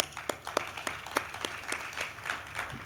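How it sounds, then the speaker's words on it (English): Sparse, scattered clapping from a conference audience welcoming speakers to the stage, a modest smattering of hands with individual claps standing out, fairly faint and somewhat distant. "Keep the applause going."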